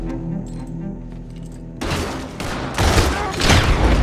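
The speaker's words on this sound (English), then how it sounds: "Oh, shotgun eh." Shotgun blasts in Red Dead Redemption 2 come as heavy, booming bursts of in-game gunfire after a quieter stretch of game sound, loud and close with several overlapping shots.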